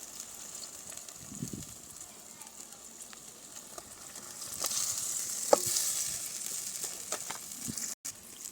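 Paneer goes into a gravy simmering over a low flame in a pan. A soft bubbling sizzle swells as it is stirred, with a few light clinks.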